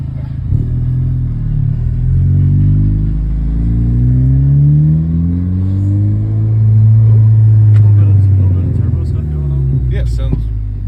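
A car with a 2J Racing exhaust pulls away and revs through several rising and falling gear pulls, heard from inside the car, loud and close, with brief talk near the end.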